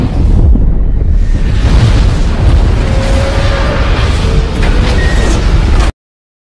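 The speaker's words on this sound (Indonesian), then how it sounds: "bom tersebut akan meledak beberapa detik lagi" A bomb exploding on a ship in the 2007 film Next roars as a loud, sustained blast, a dense rumbling wall of noise with crackling debris and a few tonal whines, running for about six seconds before cutting off abruptly.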